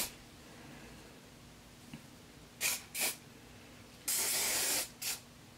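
Several sharp hissing bursts of Garnier Fructis hairspray sprayed onto hair, short puffs and one longer sustained spray, close and otherwise quiet.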